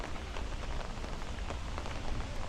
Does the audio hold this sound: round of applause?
no